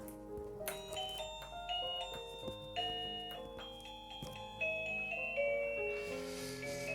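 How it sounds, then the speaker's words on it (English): A wireless driveway doorbell plays a chime tune: a sequence of bright, ringing bell-like notes in a melodic pattern, close and clear, with no talking. "You can change the tune on the doorbell as well"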